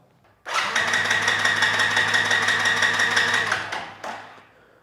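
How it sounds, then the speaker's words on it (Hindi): On a motorcycle left sitting for years, in neutral with its fuel tank disconnected, the starter motor cranks the engine in one long, loud, whirring burst of about three seconds, then a short second burst follows after a pause. "अभी क्रैंकिंग कर रहा हूँ"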